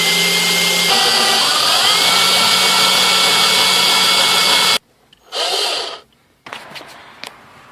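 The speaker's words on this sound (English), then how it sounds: "So now you can use a hole saw to drill the hole." A power drill runs loud and steady with a hole saw grinding through a Mazda car's metal body, then stops; after a pause there's a shorter burst followed by a few clunks.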